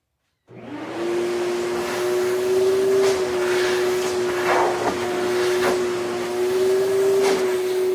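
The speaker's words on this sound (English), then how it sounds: "now all I do is take my vacuum, I got my little brush on it, and I'm going to vacuum them off" A vacuum cleaner with a small brush attachment starts up and runs loud and close with a steady whine while cleaning painted wooden solar light posts, with brief scrubbing bursts as the brush moves along the wood.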